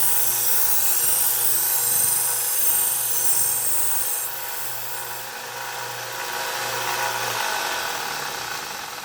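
A knife blade is sharpened on a Harbor Freight 1x30 inch belt sander, with a steady whining motor hum and a hissing abrasive grind that shifts as the blade moves against the belt, with no talk.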